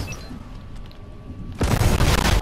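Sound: rocket ram explosion in the video game Fortnite

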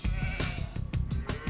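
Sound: sheep bleating in video game Age of Empires 2

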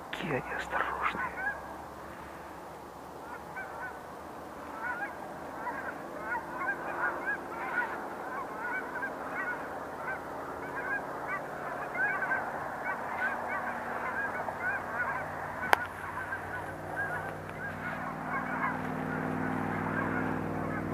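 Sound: wild geese honking in flight over water

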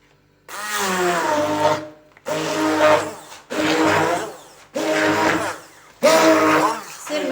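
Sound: blender mixing cheese batter

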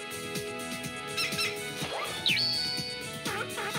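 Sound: cute creature squeak from video game

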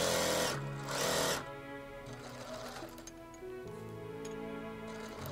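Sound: sewing machine stitching side seams of an Oshima tsumugi silk jacket

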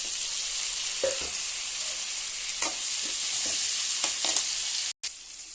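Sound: brinjal (eggplant) frying in oil

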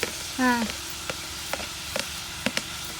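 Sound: tomatoes added to a frying bitter gourd curry

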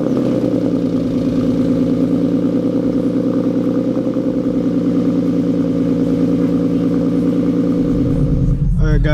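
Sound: car engine cold start

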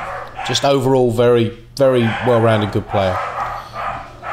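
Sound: dogs barking

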